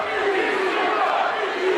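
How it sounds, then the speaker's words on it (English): A wrestling arena crowd roars and cheers at a live match, a dense, loud, sustained wash of many voices with no pauses. "This crowd is electric"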